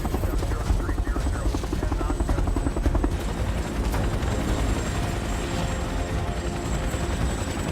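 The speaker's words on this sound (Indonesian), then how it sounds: "Sesaat kemudian heli tim SAR muncul" A search and rescue helicopter flying close by, its rotor producing a loud continuous chopping throb with a steady whine above, filling the whole stretch without letup.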